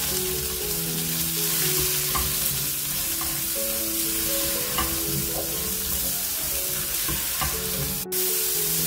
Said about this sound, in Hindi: और ये लाल मिर्ची ऐड कर देंगे बस, और इसको हम फ्राई करेंगे लौकी को इनके साथ।